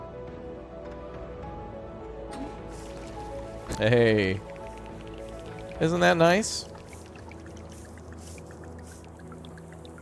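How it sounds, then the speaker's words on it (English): A water pump spills a waterfall into a river in a post-apocalyptic city builder game, a steady splashing pour that runs the whole time under someone talking. "make a nice little waterfall over here"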